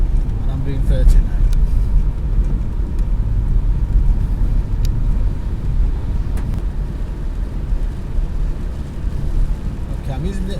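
Steady road rumble and broadband hiss inside a car driving at about 30 mph on a wet road in the rain, with intermittent wipers running. Occasional faint ticks sit over the continuous drone.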